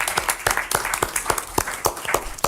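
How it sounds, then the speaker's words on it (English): An audience gives a round of applause for agency staff at a wildlife commission meeting, a brief burst of uneven, fairly close hand claps that fades quickly. "I just want to give a round of applause to our staff for doing that"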